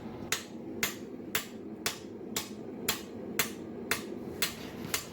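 Hammer texturing 1 inch by 3/8 inch steel flat bar while forging an Elder Futhark rune set: ten evenly spaced, crisp metallic strikes at about two per second over a low background hum.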